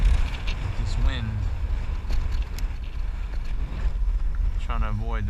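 Wind blows steadily across open water around a fishing boat on a bay, a constant low rush buffeting the microphone, with brief speech-like tones breaking through near the start and end.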